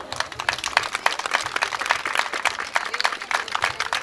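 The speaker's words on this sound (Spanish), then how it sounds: "Así que brindenle fuerte el aplauso." Audience applause at a jaripeo rodeo in San Vicente Boquerón during a Virgen de Guadalupe celebration: dense, steady clapping from many hands, sustained and fairly loud throughout with no break.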